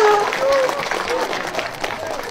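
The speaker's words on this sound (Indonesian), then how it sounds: "Tepuk tangan." Audience clapping, a dense burst of applause that holds steady across the whole moment, with a voice speaking briefly over it at the start.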